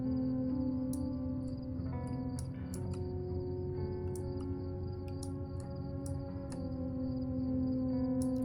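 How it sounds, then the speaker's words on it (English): Steady cricket chirping fills an in-game ambience in Fallow, a dense continuous insect trill with sharp high ticks scattered throughout, no talk over it. "Were there cricket sounds here before?"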